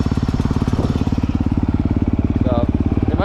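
A 2023 Honda CRF250 dirt bike engine runs loud and close at a muddy track, holding a steady, buzzing throb for a few seconds with slight rises in pitch.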